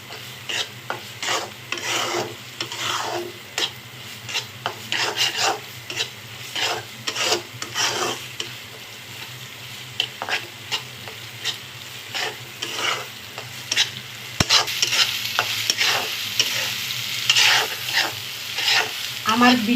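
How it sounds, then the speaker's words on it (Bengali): Lote shutki, Bombay duck dried fish, being stir-fried into a thick bhuna, with continuous scraping and stirring over a steady sizzle, growing a little louder toward the end; no talking. "আর একটু সুন্দর করে কষিয়ে নেব, একদম মাখা মাখা করব।"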